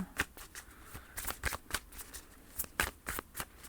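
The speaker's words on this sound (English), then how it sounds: "Let's just get an animal spirit guide card." Animal spirit guide oracle cards are shuffled by hand in quick bursts of riffling, close and fairly clear, with short gaps between the slapping flurries.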